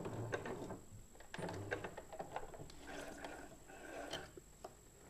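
A sewing machine makes short bursts of stitching back and forth on a wrist pin cushion, a soft close mechanical chatter and ticking with small clicks as the stitch direction reverses, fairly quiet and without talk.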